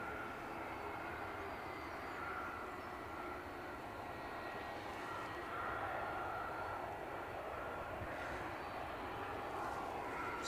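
An EasyJet Airbus A320neo jet arriving at Edinburgh Airport from Bristol gives a steady, moderately distant engine roar that holds level throughout, faintly rising toward the end, with no voices present.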